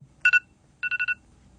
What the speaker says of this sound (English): And that was my alarm